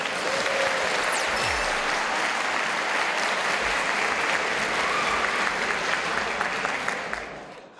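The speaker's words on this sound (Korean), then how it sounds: "박수로 청해 듣겠습니다" Sustained applause from a lecture audience welcoming a philosophy speaker, dense and steady throughout before fading slightly at the end.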